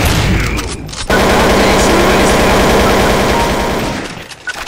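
Sustained automatic gunfire in the video game Counter-Strike: Source, a loud continuous burst lasting several seconds before tapering off.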